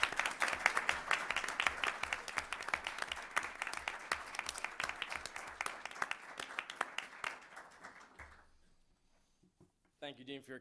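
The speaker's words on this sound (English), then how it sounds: "please enjoy a moment of applause for your efforts" A conference audience applauds the organizer, brisk, steady clapping that tapers off and fades into quiet, followed by a voice beginning to speak at the end.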